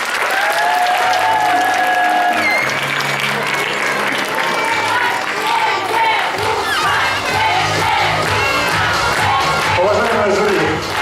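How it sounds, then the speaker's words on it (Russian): Loud, enthusiastic applause from a large audience for all teams at a KVN comedy festival, continuous clapping with cheering and shouts layered over music throughout. "Бурные аплодисменты всем команд."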